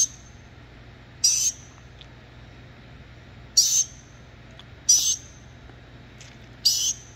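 A pet bird gives bright, high chirping calls in four short bursts, separated by pauses of a second or more, close by and clear over a quiet indoor background.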